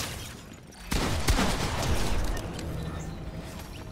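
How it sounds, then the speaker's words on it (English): Shotgun blasts in Fortnite Chapter 4 Season 3: a sharp loud report at about one second, then another shot and rumbling game noise and scattered impacts continuing beneath, with no clear speech. "It's my favorite shotgun."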